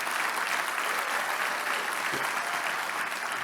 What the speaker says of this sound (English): help me give a little round of applause